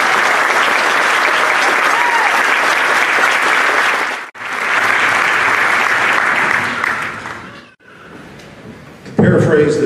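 A graduation ceremony audience at Coastal Bend College bursts into loud, sustained applause for several seconds, briefly dipping, then resuming before fading.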